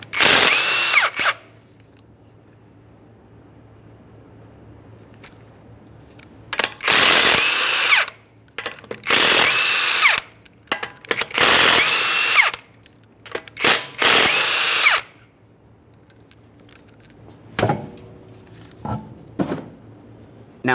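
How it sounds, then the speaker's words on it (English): A power tool (an impact gun) zips off 21mm lug nuts from the wheel of a 2009-2014 Nissan Maxima in five loud, close bursts of a second or two each, separated by quiet gaps and clanks of the tool being handled. "we're going to remove all 5 of our 21mm lug nuts and we can get the wheel off of here"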